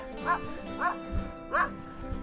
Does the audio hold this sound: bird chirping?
no